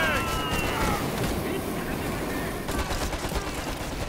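Gunfire in the shooter game Homefront: The Revolution, dense rapid bursts over a roaring, windy battle din, with shouted voices mixed in.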